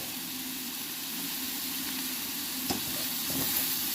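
Bacon and mushroom frying in a pan with garlic and onion, a steady close sizzle running throughout with a low background hum and a single brief clink, no talking.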